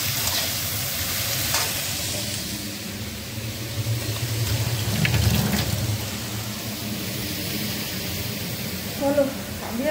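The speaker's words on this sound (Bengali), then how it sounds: "চলো তাহলে এটা কিছুক্ষণ সময় লাগবে ভেজে, তারপরে শাকটা অ্যাড করবো" Vegetables and bori frying in a home pan, a steady broadband sizzle running throughout with occasional stirring scrapes, moderately loud and close.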